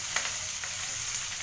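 Sliced onion, curry leaves and garlic fry in hot oil in a pan for a bitter gourd gojju, a close, steady crackling sizzle with soft stirring scrapes and no voices.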